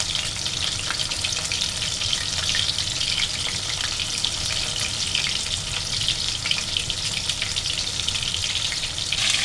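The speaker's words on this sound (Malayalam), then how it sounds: "നമ്മുടെ ഇറച്ചിയെല്ലാം കിടന്ന് നന്നായിട്ട് മൂക്കുന്നു." Pieces of chili chicken fry in an oily pan, giving a steady, dense sizzle and crackle that stays loud and close throughout, with no voices.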